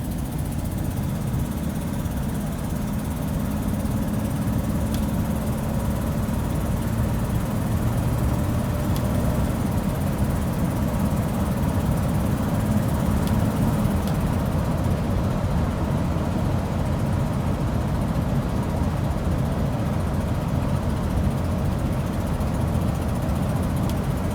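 A Ford truck with a Select Shift transmission rumbles steadily while driving, a loud continuous low engine drone with road noise and no break or talk across the whole stretch.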